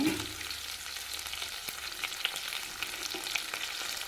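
Curry leaves fry in a hot pan with a continuous crackling sizzle, close and fairly quiet, broken by a few small pops and stirring taps.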